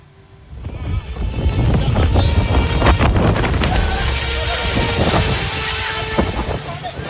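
Strong wind gusting at Kuta Beach, Bali, on a stormy afternoon, a loud sustained roar buffeting the microphone with rumbling low noise, scattered voices and activity faintly audible beneath.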